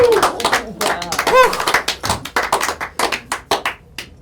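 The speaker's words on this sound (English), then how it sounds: "Give them a round of applause" A small audience at a mentalism show claps after a correct card reveal. The claps are sparse and uneven and sit under overlapping talk, with a few sharp taps standing out near the end.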